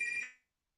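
A phone rings for an incoming call, a short electronic tone burst that cuts off abruptly and leaves silence.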